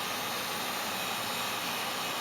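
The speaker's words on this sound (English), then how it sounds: "I have the heat gun on here for a second, so I apologize for the noise." A heat gun drying light coats of gloss paint on a Monogram Battlestar Galactica model part runs as a steady, loud, close blowing roar with a faint high whine, with no pauses.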